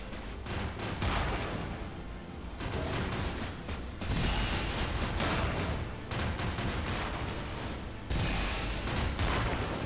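Heavy machine guns fire in the video game Cryptark. The sound is a dense, sustained rattle of rapid gunfire with mechanical clatter, loud and close, swelling in several long bursts with no talking.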